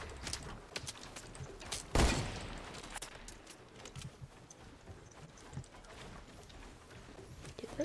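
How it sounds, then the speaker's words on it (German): Gunfire in the Fortnite battle royale game: a single loud, sharp burst of shots near the middle stands out from a busy background of quieter game sounds. "Schüsse!"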